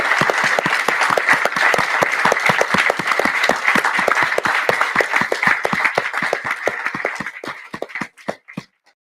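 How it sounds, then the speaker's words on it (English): Conference audience applauding the speakers at an international peace and justice conference: dense, steady clapping from a large crowd that thins out and fades to scattered claps near the end. "have a big round of applause for our speakers"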